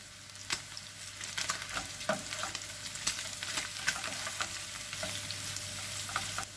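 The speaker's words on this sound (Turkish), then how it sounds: "1-2 dakika kadar da soğanlarla soteleyelim." Meat and chopped dry onions sautéing together in oil in a pan for a pide kebab, a continuous near crackling sizzle punctuated by utensil scrapes and taps as it is stirred, with no voices.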